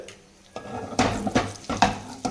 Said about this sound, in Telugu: ఆయిల్ అయితే హీట్ చేస్తున్నాను అనమాట సో ఇందులోకి ఇప్పుడు నేను తీసి పెట్టుకున్నా కదా ఆవాలు జీలకర్ర కొంచెం శనగపప్పు కొంచెం మినప్పప్పు